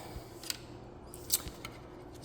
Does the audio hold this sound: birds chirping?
no